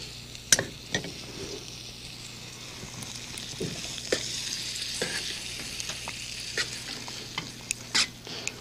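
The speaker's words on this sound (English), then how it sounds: "take our onions, and saute them." Onions sauteing in a frying pan give a steady, soft sizzle, broken by sharp scrapes and clinks as a utensil stirs them against the pan.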